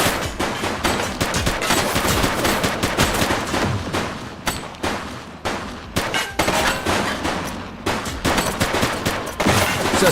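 Rapid gunfire from a suspect in The Precinct rattles almost nonstop, with loud, dense bursts of shots packed closely together, like automatic fire, running from start to finish.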